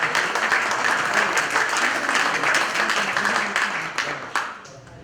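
Applause from an audience at a talk on writing, a full, dense burst of many hands clapping that holds steady and then tapers off toward the end.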